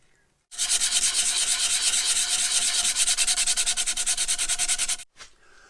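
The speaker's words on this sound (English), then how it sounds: "and then sand it smooth" Sandpaper is rubbed by hand over a wooden twist puzzle piece to smooth a filled hole, a loud, close, rhythmic scratching of rapid even strokes that stops abruptly after about four and a half seconds.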